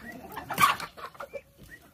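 A rooster gives a few short, nearby clucks, one louder burst followed by softer broken calls.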